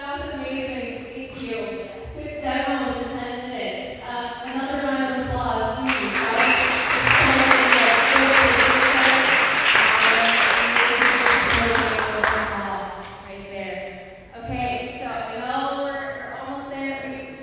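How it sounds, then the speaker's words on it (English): An audience at a tech meetup claps after a round of demos, a dense burst of applause that rises in the middle and fades. People talk before and after it. "Another round of applause, please."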